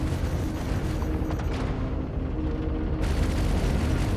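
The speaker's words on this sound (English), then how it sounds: "It looks like you're just shooting the main cannon." Spaceship main cannon firing in Star Citizen, a dense, continuous roaring barrage of heavy booms that briefly thins midway before resuming at full, loud intensity, with no voices.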